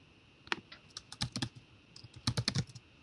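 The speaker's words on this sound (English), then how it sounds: "I'm typing whatever it is that I'm doing" Keys clatter on a computer keyboard while an email is written in Gmail, quick bursts of close, crisp clicks in irregular clusters separated by brief pauses, no voices.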